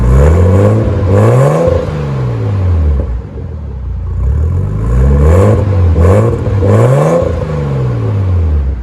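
A loud 1992 Nissan Skyline R32 engine revs up and drops back in repeated bursts, the deep, raspy resonator-deleted exhaust swelling and falling several times close by.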